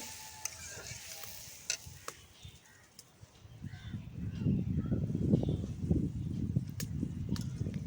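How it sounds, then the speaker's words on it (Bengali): Spinach with radish and shrimp sizzles in a pan as it is stirred, a steady close frying crackle with scraping that grows louder in the second half, no talking. "একটু নেড়ে নিচ্ছি।"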